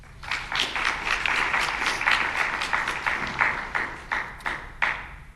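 SGA senators and Senate liaisons clap from home during a 2021 installation ceremony, a steady round of dense applause lasting several seconds with individual sharp claps standing out near the end.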